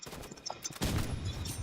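Gunfire in a robot-building video game, a few scattered cracks and then a dense burst of rapid shots, fairly close and loud, heard alone without talk.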